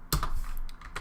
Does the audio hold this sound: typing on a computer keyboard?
yes